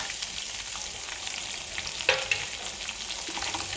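Sliced onion and green chillies sizzle steadily in a hot pan while cooking semiya upma, a constant frying hiss with a couple of brief clinks from stirring partway through.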